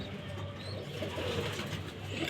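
Female pigeons coo softly in a loft, a low continuous murmur of overlapping calls under a steady background hum, faint and unbroken.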